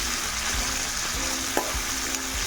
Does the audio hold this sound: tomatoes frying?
yes